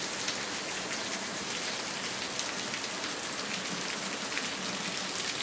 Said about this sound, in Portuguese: Bastante água, viu? Chuva bem forte,